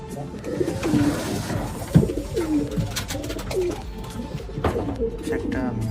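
Pigeons cooing inside a home loft, repeated low throaty coos close by with wing flutters and bird noise, while a person talks throughout.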